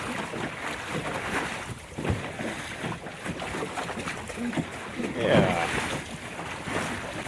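A small Welsford Navigator sailboat bounces through sloppy, choppy seas in light wind, with steady water wash and wind rumble against the microphone; a person briefly speaks.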